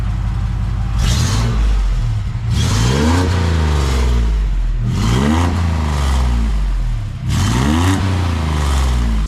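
An Astro/Safari off-road van engine with a compact Flowmaster exhaust revs hard several times in a row, each rev climbing then dropping back, with a deep, loud exhaust note between bursts.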